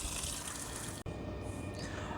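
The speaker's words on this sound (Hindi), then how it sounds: "तने के ऊपर की साइड में इस तरह से पानी दूंगा तो पानी नीचे बह कर जाएगा" Water poured from above onto the stem of a kaner (oleander) plant, running down into the soil in hot summer sun; a steady close pouring and trickling wash continues throughout, briefly cut once near the middle.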